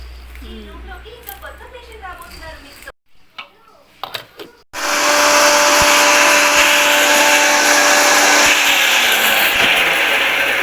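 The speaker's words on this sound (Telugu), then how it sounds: "ఇట్లా మిక్సీ లేదు మిక్సీలో వేసుకోవాలి కొంచెం బూంది" A kitchen mixer grinder grinding boondi for laddu: after some talk and a short quiet gap, a loud, steady whirring roar starts abruptly and runs without a break to the end.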